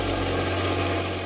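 A tractor engine runs steadily on a farm field, a continuous low droning idle with a strong humming tone and constant vibration, loud and close with no talking.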